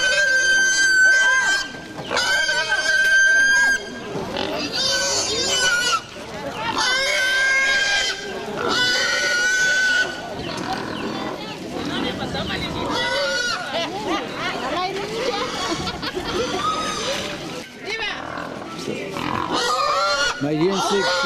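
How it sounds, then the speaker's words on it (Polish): Pigs squeal loudly and repeatedly at a busy outdoor bazaar in Ankazobe, Madagascar, shrill bursts mixed with other livestock calls and crowd chatter throughout. "Najwięcej krzyku robią świnie."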